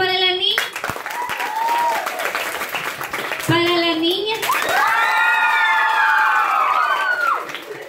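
Crowd of neighbours clapping and cheering for a young girl at a lively outdoor comedy gathering, with children's shouts and excited voices rising over steady applause throughout.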